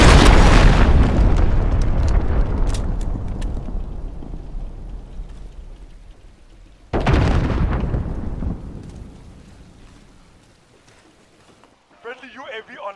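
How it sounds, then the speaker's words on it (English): Heavy cruise missile blasts in Call of Duty: Modern Warfare on PlayStation 4 roll out as two deep booms, each rumbling long and fading slowly, with a brief voice callout near the end. "Allied cruise missile on the way."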